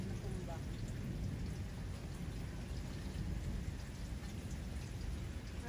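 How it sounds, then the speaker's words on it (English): Heavy thunderstorm rain pours steadily with a deep rumbling undertone, a constant dense roar throughout. "Kasi sobrang lakas ng ulan."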